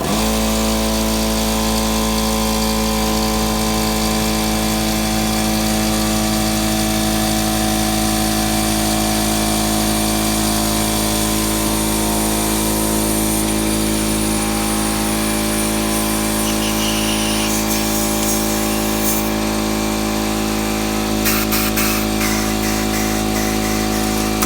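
A quick-change air needle scaler runs on a small, cheap 5-gallon compressor, a loud, steady, dense pneumatic hammering buzz that holds for the whole stretch, with rattling chatter creeping in near the end.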